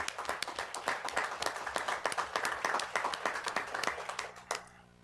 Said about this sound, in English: We can give them a round of applause.